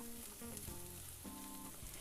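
Carrots and onions frying together in a pan, a quiet steady sizzle with light stirring, close and faint, with no talk.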